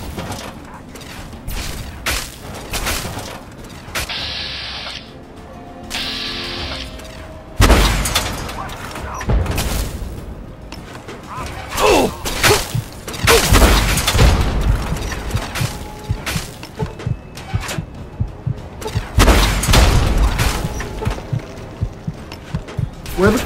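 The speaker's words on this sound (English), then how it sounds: "We're gonna use the missile launcher on this one." Missile launcher shots and blasts in Fallout 3, several loud booms and impacts spread through a busy stretch of game noise, with heavier explosions around the middle and later, under a talking voice.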